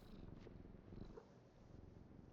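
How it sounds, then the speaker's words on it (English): A cat in the Indiana Jones: The Order of the Giants video game purrs quietly, a soft low rumble that runs steadily under faint background ambience. "I like hearing the purring noises he makes"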